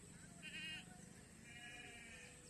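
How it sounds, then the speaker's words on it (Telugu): A couple of sheep bleat, one short call then a longer wavering one, fairly close over a quiet outdoor background near paddy fields. "ఈ గొర్రెల్ని అనగా జీవాలను మేత మేయడానికి తీసుకెళ్తున్నారు"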